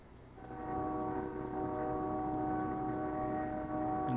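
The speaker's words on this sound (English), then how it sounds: "And there's our train." A train rolls past with a loud sustained rumble and a steady horn tone held for several seconds, close by.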